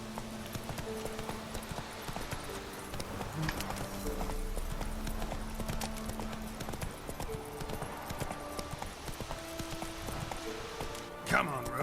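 The horse Roach from The Witcher 3 galloping, with rhythmic hoof clip-clops layered under game music, fairly quiet overall, with a short louder burst at the end.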